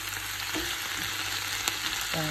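Tuna and Chinese cabbage seasoned with Himalayan salt are stirred in a pan, with a steady frying sizzle running throughout and a few soft scraping strokes from the utensil, alone without any voices.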